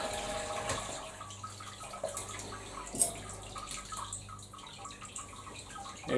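Wort trickles and drips slowly from a grain bed in a BrewTube brewing system, a faint, close splashing and dribbling with a soft low hum beneath and a single sharper clink.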